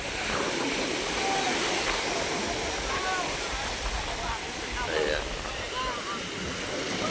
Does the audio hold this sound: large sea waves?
yes